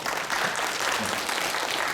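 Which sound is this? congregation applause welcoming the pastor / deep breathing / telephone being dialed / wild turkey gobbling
congregation applause welcoming the pastor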